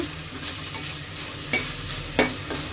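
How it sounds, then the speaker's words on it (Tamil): Two large onions sizzle in hot oil for a white chickpea masala, a continuous close frying hiss broken by a few sharp spoon scrapes as they are stirred, with no voices. "ஆனியன் போட்டுட்டு வந்து நல்லா கலக்கி விட்டுருங்க நல்லா ப்ரௌனாக வறுத்துக்கோங்க"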